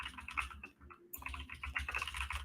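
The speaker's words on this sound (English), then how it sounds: "Sorry for the typing." Fingers type rapidly on a computer keyboard close by, a dense run of soft clicking keystrokes that pauses briefly and then resumes, with no talking.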